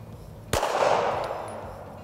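A single sharp shot from a Rock Island Armory STK100 pistol at an outdoor range, a sudden loud crack followed by a lingering wash of echo.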